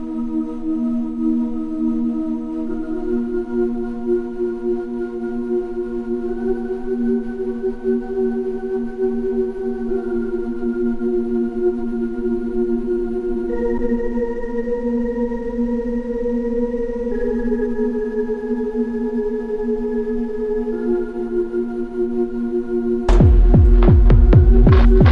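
Synthesized tonal pad processed with granular effect, the grain size lowered to add grit; a sustained, throbbing humming texture with shifting pitches for over twenty seconds, then a burst of sharp rhythmic transients near the end.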